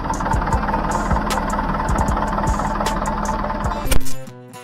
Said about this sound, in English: Lombard log hauler.